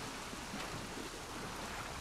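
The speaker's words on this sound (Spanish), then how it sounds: "Y encima está lloviendo, imagina." Steady rain falls in the video game The Last of Us Part 2, a constant broadband hiss with a faint watery rumble and no distinct drops or voices over it.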